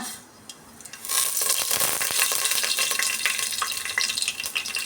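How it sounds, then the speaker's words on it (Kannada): Mustard and cumin seeds spluttering in hot oil for bele sambar. After a quiet first second, a loud continuous hiss rises and stays steady, with scattered sharp pops throughout. "ಸಾಸಿವೆ ಜೀರಿಗೆ ಎಲ್ಲ ಸ್ವಲ್ಪ ಸಿಡಿಲಿ"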